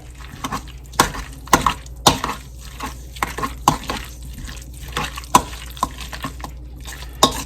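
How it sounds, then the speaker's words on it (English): A spoon mixes a thick seafood casserole dip in a bowl, making repeated wet scrapes and sharp clinks against the side. The strokes come in an uneven rhythm, close up, with no voices. "get me a spoon and mix all this together"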